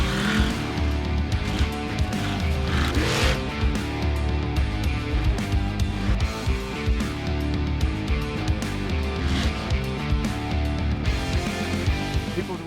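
Big monster trucks such as Bigfoot roar in action at a loud outdoor show, engines droning steadily throughout with bursts of tire squeal and revving, close and dense with crowd and arena noise.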